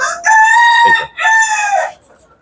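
A rooster by a small two-foot cage crows loudly and close in a single drawn-out call, strident and bright with a brief break in the middle, then trails off into quiet.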